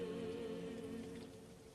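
Steady rain falls softly and evenly through the whole stretch, quiet and continuous beneath a low sustained musical drone.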